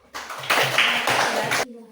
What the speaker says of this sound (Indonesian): Tepuk tangan untuk Iko dulu.